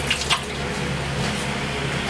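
Water is poured into a pan of milkfish cooking with onions, a steady hissing, sizzling wash of liquid that stays fairly loud and close throughout, with no talk.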